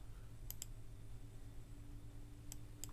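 A computer mouse clicks twice in quick succession, then twice more a couple of seconds later, sharp and faint over a low steady hum in an electronics lab.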